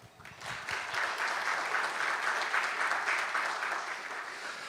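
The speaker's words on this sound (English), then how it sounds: "A round of applause again." Audience at the 2025 Busan Global Partnership Forum bursts into a steady round of applause, rising quickly and holding at an even level throughout.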